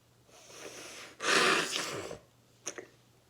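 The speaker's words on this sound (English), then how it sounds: "don't you just hate it when you get the sniffles?" A person sniffles, with a couple of breathy nasal inhales rising to a loud wet snort, followed by two short quick sniffs, close to the microphone.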